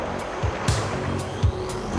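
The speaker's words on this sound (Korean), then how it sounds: "드디어 파도가 일렁이기 시작했다." Generated waves washing through a large ship model test tank, a continuous watery wash with soft periodic sloshing thumps, moderately close and without speech.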